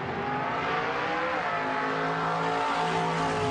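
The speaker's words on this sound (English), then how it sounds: "But a car moving away from me sounds lower-pitched." A car drives past with a loud, continuous engine roar, its pitch sliding lower as it moves away.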